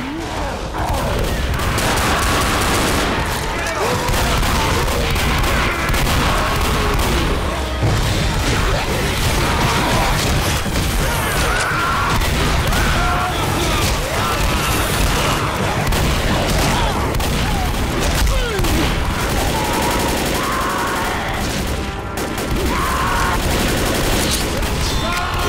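Dense, nonstop gunfire and booming blasts from survivors' shotguns unloading on a Tank in Left 4 Dead, loud and continuous with crashes and chaotic combat noise throughout.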